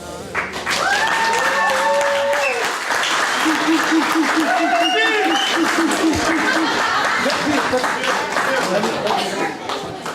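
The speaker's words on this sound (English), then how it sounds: "Another round of applause for Nada, please." An audience applauds at an iftar gathering after a poem, with steady clapping running throughout under cheers, chatter and some laughter, and voices rising over the crowd.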